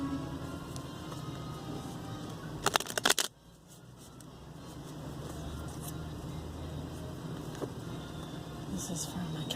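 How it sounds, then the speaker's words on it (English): Tarot cards shuffled in a brief burst of rapid riffling clicks lasting under a second, over a quiet room hum. "I'm going to shuffle some more."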